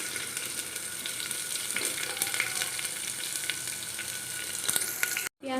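Chopped onions hiss and crackle as they fry in oil with bay leaves inside a pressure cooker, a steady close sizzle with small stirring knocks, cutting out briefly near the end.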